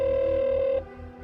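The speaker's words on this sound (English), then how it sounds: "Daniel's mom, Christine, calls her son's phone." A phone rings out with a single steady electronic tone as a mother calls her son's phone, the ring stopping partway through and leaving a low hum behind.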